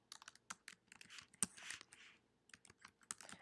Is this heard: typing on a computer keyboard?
yes